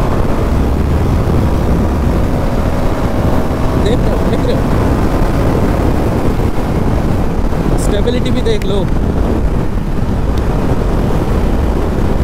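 A KTM Duke 390 motorcycle ridden at speed on an evening ride, with a steady engine drone buried in constant wind roar while the rider talks throughout.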